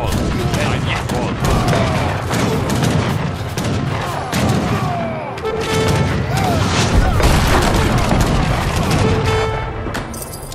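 Bombard cannons pound away in an Age of Empires III fort battle, with a dense barrage of booms and gunfire rumbling continuously, loud and layered, while voices speak over the din.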